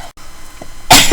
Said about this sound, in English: Oh, I can guarantee I'll sneeze when I'm filming, guarantee it.